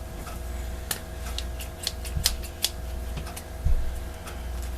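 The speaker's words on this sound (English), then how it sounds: "I'm using some scissors that have been used to cut a lot of stuff" Sharp scissor snips cut through a paper envelope in an irregular series of clicks, with a soft rustle and a thump near the end.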